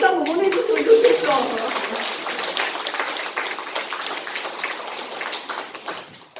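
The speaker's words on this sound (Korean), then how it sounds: "박수 한번 보내주시면 좋겠죠." Audience applause at a Korean religious gathering, a dense patter of clapping that starts under a speaking voice and then carries on alone, steady and gradually fading toward the end.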